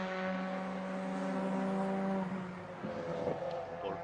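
Number 111 Seat Cupra Leon race car in a two-hour endurance race, heard as a faint, steady engine drone that holds for a couple of seconds and then fades off, with no one speaking.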